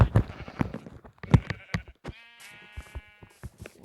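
Several bleating sheep calls from a Minecraft game, nasal and wavering, in quick succession followed by one long drawn-out bleat, fairly close and clear.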